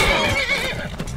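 A horse in the video game Skyrim lets out a loud, close whinny that rises and then trails off, with a few clip-clop hoof sounds near the end.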